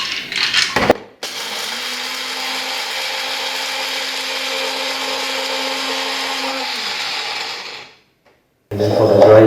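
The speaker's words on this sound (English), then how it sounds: "I'm just going to use the grinder for this." An electric grinder blitzes spices for Nyonya acar, a Malaysian pickled vegetable dish, with a loud, steady motor whir running about seven seconds before it cuts off; a brief clatter comes before and after.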